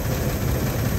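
A 1957 Pontiac Star Chief's engine running, with a steady, close, low mechanical rumble and drone. The level stays even throughout the brief stretch, and no one speaks.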